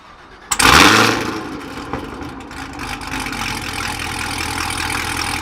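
A Chevrolet Camaro ZL1 1LE engine fires off one sharp, loud blip, then drops back to a steady, throaty idle rumble that holds close and constant.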